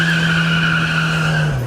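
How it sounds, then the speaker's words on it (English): A small car's engine holds a loud, steady, droning pitch with a high whine above it, then the tone dips slightly near the end. "A cool little car, listen to this. Got a kind of a nice rev"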